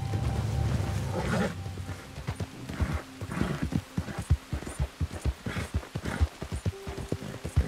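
Horse hooves clip-clop steadily in a realistic open-world video game, a close, rhythmic string of sharp thuds over a low ambient bed, with no speech.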